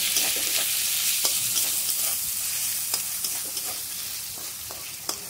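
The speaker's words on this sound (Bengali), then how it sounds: "টমেটোটা দিয়ে নেড়ে নেবো" Tomato frying with ginger and garlic is stirred in a pan, giving a loud continuous sizzle with repeated scraping strokes of a spatula throughout.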